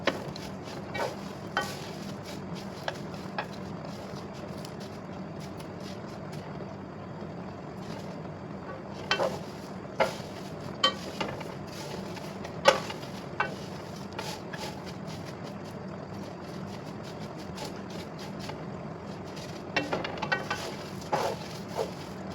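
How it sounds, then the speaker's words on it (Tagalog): Saloyot (mlokeyeh) frying in a pan while being stirred, a steady low sizzle with scattered scraping clicks and small clusters of taps from the utensil, fairly quiet and close. "Natatakot kasi ako pag hindi ko palaging hinahalo kasi baka masobrahan siya sa fry"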